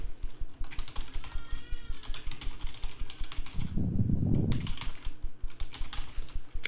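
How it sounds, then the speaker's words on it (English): Rapid, steady typing on a computer keyboard, with a continuous stream of close clicks and key taps, while a cat lets out one short meow partway through. "I'm typing it up."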